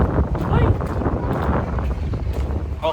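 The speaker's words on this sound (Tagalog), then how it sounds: "Lakas yung hangin, lakas ng hangin." Strong wind buffets the microphone in a steady low rumble, with a few faint voices underneath, outdoors in cold weather in Canada.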